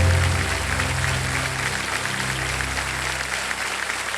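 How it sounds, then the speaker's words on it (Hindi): Studio audience applause on the set of the quiz show Kaun Banega Crorepati, a steady dense wash of clapping from a large crowd that holds at full level for the whole stretch, with music tones underneath and no talking. "ताली बज जाए सबके लिए।"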